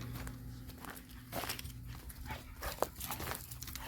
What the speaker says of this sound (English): See them crazy dogs, they're running wild like always.